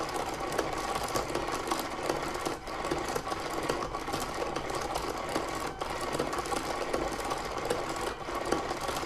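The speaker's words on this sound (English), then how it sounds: "our handy little boy yarn ball winder is going to take care of the rest" A small yarn ball winder whirs steadily as it winds hand-dyed yarn off a swift, a continuous mechanical hum running without pause from start to finish.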